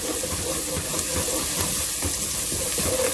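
Okra and onion frying together in a pan for a hotel-style bendakaya fry, giving a steady, loud, close sizzle and hiss that holds evenly throughout with no voices.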